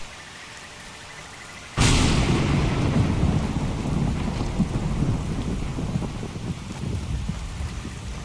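A sudden loud thunderclap bursts over steady rainfall in the game Skyrim, then a dense, close downpour with low rumbling rolls on for several seconds.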